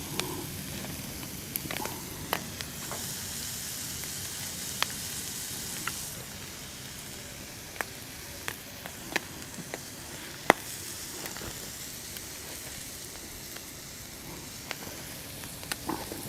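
Olive oil sizzles on a Blackstone 28-inch folding-leg griddle, a steady low frying hiss under sharp scattered clicks and pops from a spatula, with no talking.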